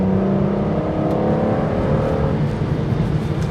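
An Aston Martin DB9 engine revs after a paddle-shift downshift into third gear, a steady, loud in-cabin drone with a rising tone that holds for several seconds.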